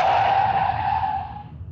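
A car turning as it is driven, a brief tire squeal or skid with a steady tonal whine that fades over under two seconds, fairly close and without talk.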